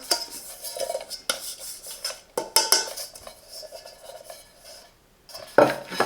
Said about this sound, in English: We have the inner pot, maximum 1 liter.